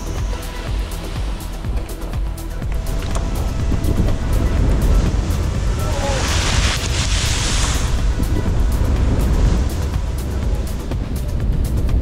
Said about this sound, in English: I can finally start hearing the crashing waves against the shore.